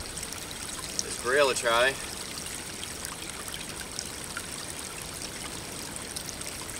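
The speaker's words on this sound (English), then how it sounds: "this is the first running water that we've seen" A snowy stream flows with a steady soft trickle and babble outdoors, continuous and fairly close, with a brief burst of speech partway through.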